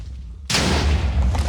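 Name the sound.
explosions in Minecraft video game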